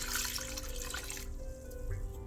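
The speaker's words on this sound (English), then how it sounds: "I take about a cup of regular tap water, just pour it right in over the pork chops." A cup of tap water poured over pork chops in an Instant Pot, a steady close splashing and trickling stream that cuts off midway, leaving a low hum.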